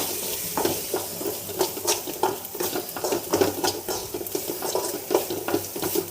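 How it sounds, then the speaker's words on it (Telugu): Maggi noodles tossed with Maggi masala in a hot pan give a steady sizzle and rhythmic scraping of a spatula against metal, close and continuous with no talking. "సో ఇవి 3 యాడ్ చేసి బాగా టాస్ చేయండి"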